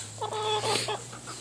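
A rooster clucks in a backyard chicken coop, a short run of close, chatty clucks over a steady low hum, with no one talking.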